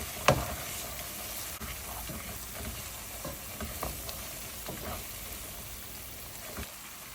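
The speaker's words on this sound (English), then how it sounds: "after adding the ginger garlic paste, I'm adding the green chili," Ginger garlic paste and crushed green chilies fry in a pan with a soft steady sizzle, while a utensil stirs and scrapes with scattered clinks throughout.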